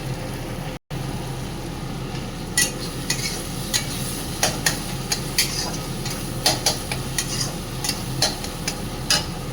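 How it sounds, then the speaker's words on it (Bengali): Ginger paste, cumin and coriander powder stir-fry in a pan with a steady sizzle, as a spatula scrapes and taps the pan in irregular strokes, close and without talking. "তারপর একটুখানি ভালো করে একটু কষাবো"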